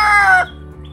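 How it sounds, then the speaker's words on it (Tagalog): A single loud, close chicken squawk, brief and harsh, cutting off abruptly into quiet background hum. "maingay yung manok."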